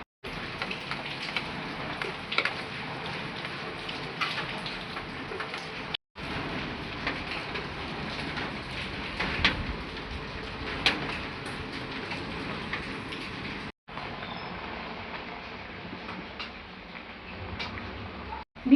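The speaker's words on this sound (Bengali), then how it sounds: "আমাদের এখানে ভীষণ বৃষ্টি হচ্ছে, আপনাদের দেখাই কেমন বৃষ্টি হচ্ছে বাইরে" Heavy afternoon rain falls outside, a dense, steady hiss of drops on surfaces heard from nearby, continuous apart from a few brief cuts, with no talking.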